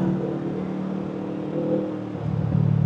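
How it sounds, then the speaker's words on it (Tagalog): Midday road traffic on Commonwealth Avenue heard from a moving motorcycle: a steady engine drone and whir of passing cars, rising slightly as a vehicle goes by near the end, with no voices. "Dami pa rin sasakyan."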